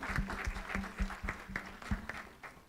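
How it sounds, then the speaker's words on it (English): A small audience at a mental health conference claps for the speakers, giving faint, scattered, rhythmic claps without talk. "Please join me in applauding."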